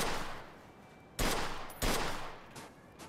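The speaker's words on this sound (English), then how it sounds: "Shoot the tires." Gunfire aimed at car tires in the video game Mafia 2: two loud, close gunshot bursts about half a second apart, each with a decaying echo, over a steady game background.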